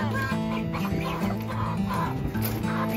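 Several hens cluck and murmur continuously inside a cage in a barn, close and busy, with overlapping throaty calls and a faint high whine above them.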